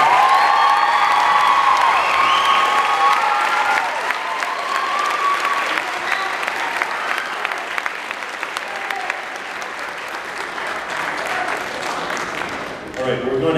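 Sustained applause from a large crowd at a school choir concert fills the space, with scattered cheers and whoops rising over the clapping before it fades away.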